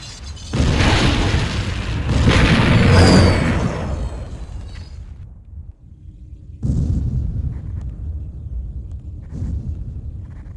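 Temple explosion in the Command & Conquer video game GDI vs Nod, a loud deep boom rolling into a long roaring rumble that fades, followed by a second weaker burst of rumble with scattered debris crackles.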